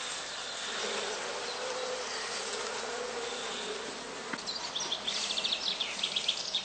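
Honey bees in a heather skep apiary make a continuous, even buzzing drone at moderate distance. Faint higher chirps and rapid flutters join in toward the end.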